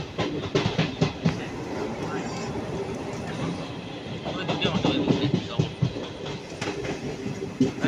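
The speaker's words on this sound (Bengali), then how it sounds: "এটাও মেট্রো যাচ্ছে" Train cars clatter by in a rhythmic clickety-clack, loud and close, with a voice speaking over the rumbling passage.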